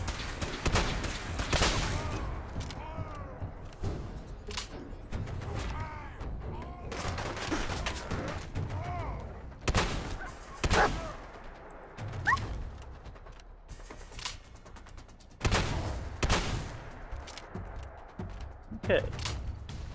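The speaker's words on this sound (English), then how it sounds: "Let's get that explosive shotgun ready." An explosive shotgun fires repeatedly in Fallout 4, with sharp loud blasts at uneven intervals over a busy mix of clanking, creaking game sounds and mechanical noise. Some voice activity is mixed in.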